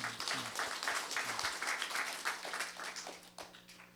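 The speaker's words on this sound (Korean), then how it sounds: "자, 다시 한번 박수." A church congregation at a Sunday worship service claps together in a fairly faint, steady round of applause that thins out toward the end.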